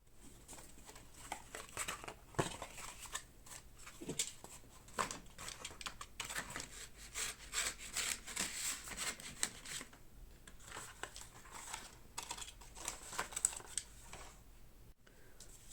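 Cardboard being cut by hand, heard as a steady run of quiet, close scraping and rasping strokes with irregular rhythm, without speech.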